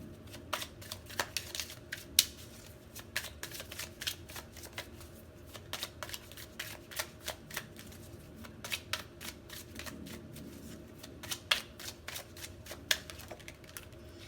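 A deck of tarot cards being shuffled close up, quiet riffling and sharp flicking clicks in an uneven rhythm, with no speech.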